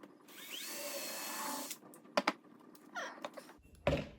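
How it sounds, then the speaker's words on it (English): A drill whirs briefly into wood while pilot holes are made for a beehive feeder shim, followed by a few sharp clicks and knocks of handling, quiet and close. "I'm going to pre-drill and then screw it."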